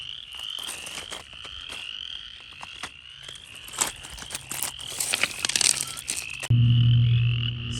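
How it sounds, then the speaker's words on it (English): A chorus of chorus frogs calling in early spring in Georgia, with rapid, rasping trills that repeat and overlap, steady and fairly close, before a sudden low hum takes over at the end. "There's a lot of chorus frogs calling in here."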